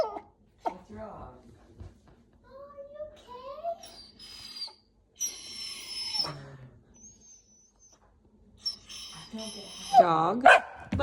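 A young puppy barks at its reflection in a door, a few short, sharp yaps close by mixed with whines, while people talk over and between them.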